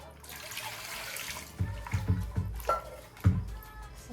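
Water poured into a pot while preparing homemade potato chips, a splashing, trickling pour with several louder sloshes and clunks of the vessel, fairly close, with faint background noise.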